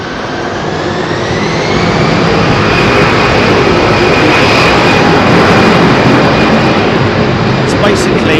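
Jet airliner taking off from runway 27R at London Heathrow at TOGA power, a loud, steady roar with a rising whine building and holding, with a voice talking over it.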